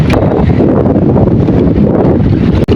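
Strong wind roaring across a fishing boat's microphone during a Baisakh storm, a loud, steady buffeting rush that fills the whole moment without pause.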